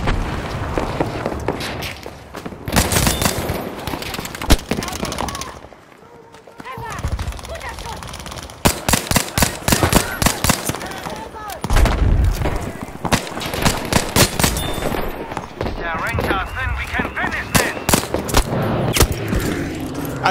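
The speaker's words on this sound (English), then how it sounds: "I just reloaded, and my gun was down to, what, 2 bullets?" Gunfire in the Battlefield V shooter game, with rapid bursts of automatic fire and single cracking shots repeating across the scene, loud and close, mixed with other battle noise and a few brief lulls.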